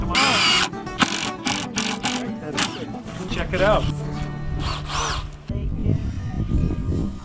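A power drill whirs in short bursts while driving into wood, close by and loud, with people talking over it.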